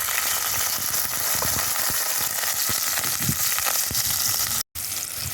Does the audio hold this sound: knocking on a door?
no